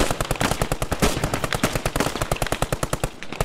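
Sustained machine-gun suppressing fire in the World War II shooter Post Scriptum, a loud, steady rhythmic stream of close shots lasting several seconds with no voices.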